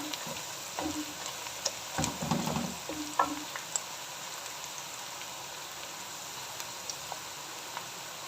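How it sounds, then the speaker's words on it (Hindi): Onions browning in oil in a pan for spicy achari chicken, a steady crackling sizzle with a few stirring clatters and scrapes near the start, then an even fry continuing alone. "यहाँ पर प्याज हमारा थोड़ा थोड़ा ब्राउन होना शुरू हो गया। थोड़ा सा मैं इसको मज़ीद ब्राउन कर लूँगी।"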